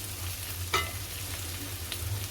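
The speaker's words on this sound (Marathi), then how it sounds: "आता आलं लसूण पेस्ट चांगली परतली आपण मसाले घालूया तेलावरती" Spices fry in hot oil after ginger-garlic paste in a pan for a cauliflower and pea dish. A steady close sizzle plays throughout, with a brief stirring scrape near the start and no talk.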